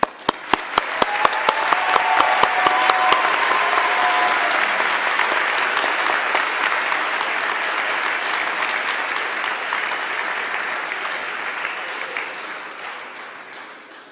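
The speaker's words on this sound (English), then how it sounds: "A round of applause for all the new alumni." A graduation commencement audience applauds the new alumni with sustained, full-room clapping that opens with a few sharp individual claps, swells into a dense roar, holds steady for over ten seconds and then tapers off.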